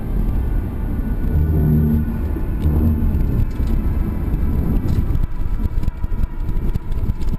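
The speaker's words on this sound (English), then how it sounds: "his foot pressed down on the gas pedal, propelling the car forward at high speed" Ford Mustang speeding along a highway from a dashcam: a loud, steady low engine and road rumble with rising harmonic engine tones early on, then rougher, gusty wind and road noise throughout.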